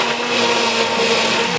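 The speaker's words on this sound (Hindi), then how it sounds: "इसके अंदर हम हैंड ब्लेंडर चला लेते हैं।" A hand blender whirs loudly and continuously through a shikanji lemon drink, dissolving sugar, a steady close motor buzz with no voices.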